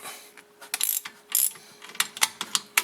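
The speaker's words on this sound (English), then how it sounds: "If I can find my 13mm socket. There it is. And our pliers. Then we'll do these bolts back up." A ratchet with a 13mm socket tightens the rear brake bolts on a 2004 Volkswagen Jetta TDI. Close, crisp bursts of rapid ratcheting clicks come in several separate strokes, with short pauses between them and no talking.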